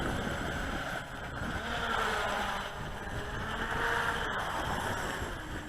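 A small model boat's motor whines steadily over water, its buzzing pitch wavering slightly as it runs, with light wind noise and no speech.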